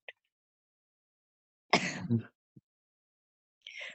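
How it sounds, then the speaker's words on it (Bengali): A single light cough, brief and close, in an otherwise quiet indoor setting with a few faint small noises around it. "হালকা একটু কাশি হইছে তো"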